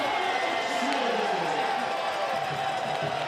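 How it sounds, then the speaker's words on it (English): Oakland Spiders fans cheering at a pro ultimate frisbee championship game against the Minnesota Wind Chill, a steady broad crowd roar that fills the stadium throughout under a commentator's voice. "You can hear the Spiders crowd"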